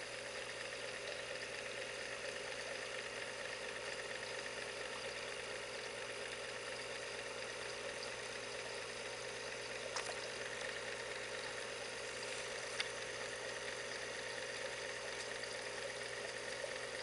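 A rebuilt V8 engine on test idles smoothly and steadily throughout, a constant mid-pitched hum with a faint mechanical whine and no change in speed.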